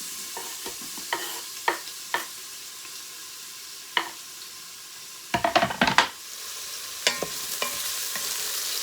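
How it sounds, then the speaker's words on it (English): Chopped onion and vegetables sauté in about a tablespoon of olive oil for Cajun red beans and rice, with a soft sizzle under scattered spoon scrapes and clatters, including a busy cluster midway. "we're going to go ahead and start sauteing our vegetables"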